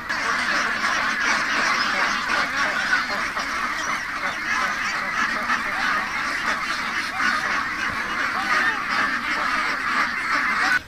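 A flock of ducks quacking loudly and continuously, many calls overlapping into a dense, steady chorus.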